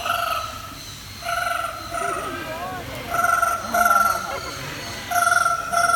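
A parrot mimics a telephone ringing at a bird show, repeating short electronic trilling rings in bursts with small pauses, close and clear, with a few soft warbles between.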